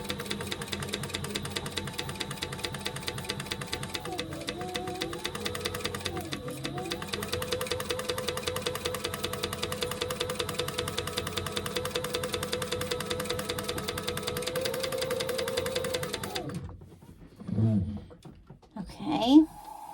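A sewing machine stitches across the bottom of a crossbody bag with a fast, steady mechanical whir and rattle. The motor dips in pitch midway, then it stops near the end, followed by a few handling knocks.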